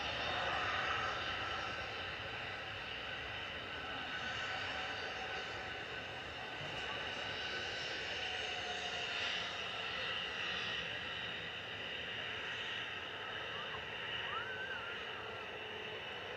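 Jet2 airliner departing Manchester Airport, a steady broad engine roar heard from a distance, holding fairly level for the whole stretch with no talk over it.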